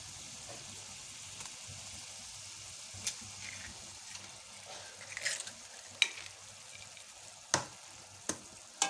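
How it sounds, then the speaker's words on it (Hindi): Eggs sizzle in a pan of ghee-cooked ridge gourd over a slow flame, a soft steady frying hiss with a few sharp clicks and crackles toward the end. "अब मैं इसमें अंडे डाल दूंगी।"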